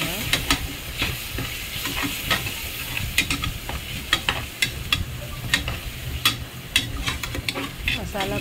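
Tomatoes and spices fry in a pan under repeated stirring, with rhythmic scraping and clacking strokes over a continuous sizzle, close and fairly loud.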